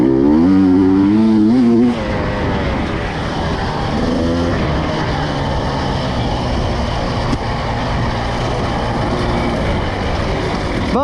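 A rebuilt dirt bike set up for woods riding, with an oversized gas tank and radiators, runs at a loud, rough idle. The engine note climbs briefly early on, then settles into steady rumbling.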